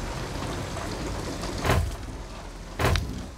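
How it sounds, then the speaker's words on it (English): Steady rainfall in the video game Detroit: Become Human, a soft, even hiss outdoors by an abandoned car, broken by two brief louder thumps, with no talking. "Just when it's raining,"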